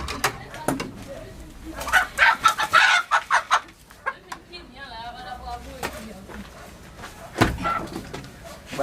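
A chicken clucks in a run of short, bright bursts mixed with a crowing-like cry. People talk and call out around it, close by.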